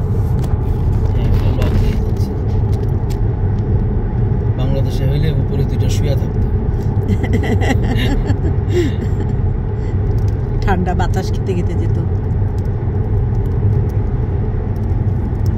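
Lorries and trailers grind along a mountain road, a loud continuous low engine rumble with passing traffic, while people chat inside the vehicle over it.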